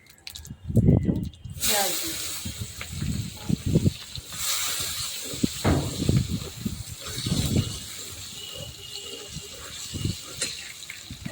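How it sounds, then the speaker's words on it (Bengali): A sudden loud sizzle as nigella seeds hit hot oil left from frying fish, settling into a steady crackling hiss while a person talks over it. "এই তেলের মধ্যে একটু আমি কালো জিরে দিয়ে দিলাম একটু"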